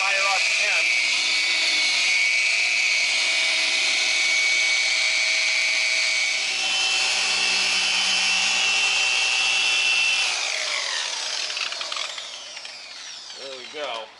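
A Maxshine M21 car polisher runs at high speed on a scratched paint panel, a loud steady whine holding for about ten seconds before easing off toward the end, with voices faintly present.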